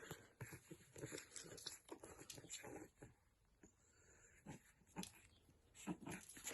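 A new pet dog close by, making small whimpers, yips and snuffling noises in short irregular bursts amid movement and handling sounds.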